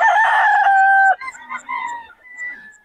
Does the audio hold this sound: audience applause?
no